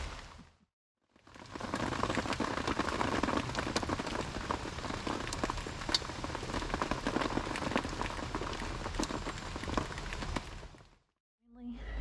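Rain falls steadily on surfaces during a motorcycle trip, a dense continuous patter with scattered louder drops, close and fairly loud for about ten seconds between brief quiet gaps.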